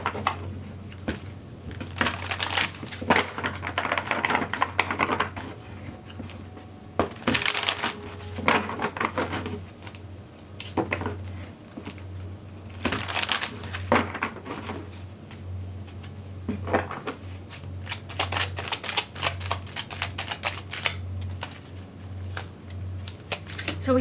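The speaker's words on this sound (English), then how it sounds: "I'm gonna put these cards back in, and I'm gonna see what else we get for you." Tarot cards being shuffled back into the deck, with repeated rustling, riffling and slapping bursts of card handling that stay close and fairly loud over a steady low hum throughout.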